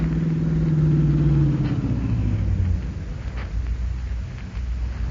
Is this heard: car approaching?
yes